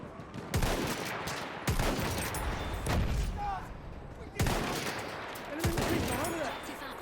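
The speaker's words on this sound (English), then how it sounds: "Getting shot from everywhere." Bursts of rifle and machine-gun fire crackle in Battlefield 1 during the Oil of Empires operation, several sharp volleys arriving in irregular waves, some close and loud, with faint voices in between.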